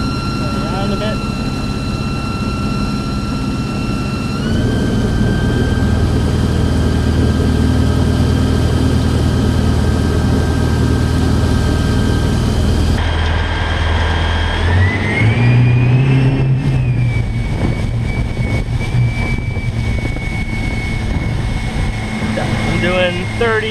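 An electric boat motor whines steadily as the boat reaches planing speed, the tone stepping up and shifting as RPM rises, with rushing water and wind noise and someone talking over it.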